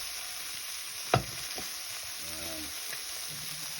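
Pork sizzles in a pan with tomato, onion, garlic and a little ginger, a steady frying hiss throughout, broken by one sharp scrape of stirring and a few faint clinks.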